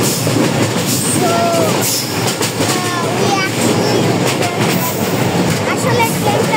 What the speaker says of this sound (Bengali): আসলে ট্রেনটা অনেক ঝাঁকাঝাঁকি করছে